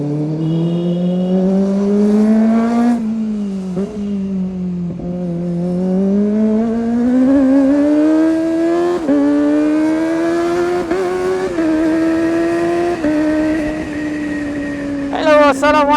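Engine of a motor vehicle on the road, loud and close, with a drawn-out roar whose pitch climbs and falls as it revs and moves past, ending with a brief sharper burst, and no talk.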